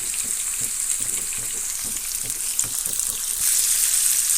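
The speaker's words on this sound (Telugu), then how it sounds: "మిగిలిపోయి ఉన్నాయి కదా ముక్కలు, అవి కూడా ఫ్రై చేసుకోవాలి" Bitter gourd pieces fry in a pan with a steady hiss and crackle, soft stirring taps scattered through, and the sizzle swelling louder near the end.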